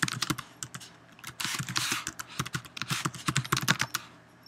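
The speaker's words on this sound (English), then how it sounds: "and I can just start typing" Quick, irregular clatter of keystrokes on a computer keyboard while text is entered into a slide in OpenOffice Impress, close and clear with no talking.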